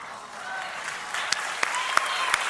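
An audience claps and cheers at a cast event for Spider-Man: Far From Home, sustained applause with a few sharp louder claps and whoops rising toward the end.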